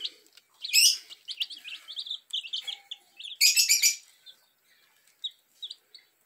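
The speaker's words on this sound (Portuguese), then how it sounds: "Mostrando os pintinhos aí, essas fofurinhas aí." Newborn chicks peep close by in clusters of high, bright chirps, with a louder flurry near the start and another in the middle, then scattered single peeps fading toward the end.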